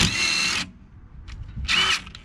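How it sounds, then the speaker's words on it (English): A small impact wrench removing the 30mm bolts from a 2007 VW Beetle brake caliper: two loud, close bursts of rattling hammering, the first lasting about half a second and the second shorter, separated by a quiet gap. "It's a couple of 30mm bolts there and there, and I'll use the little impact."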